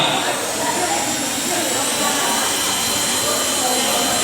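An electric mixer blends cake batter ingredients during a baking class at a restaurant, giving a loud, steady motor whir that runs unbroken for the whole stretch.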